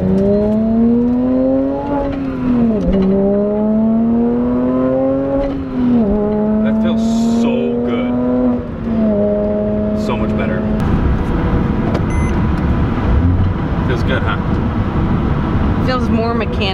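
A modified wide-body Porsche engine revs and shifts through gears on a test drive, pitch climbing and dropping in repeated pulls, then settling into a steady drone with road noise and some talk.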